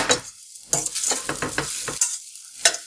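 Quick scraping strokes of a spatula stirring sabudana (tapioca pearls) in a pan, with a light sizzle between the bursts; several rhythmic stirs, close and without talk.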